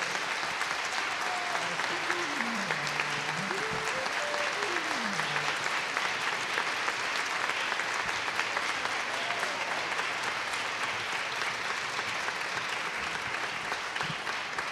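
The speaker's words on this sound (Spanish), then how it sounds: "Quiero que le den un fuerte aplauso" Warm, sustained applause from a concert audience honoring a piano teacher, an even wash of clapping lasting nearly fifteen seconds, with a faint voice briefly sounding early on.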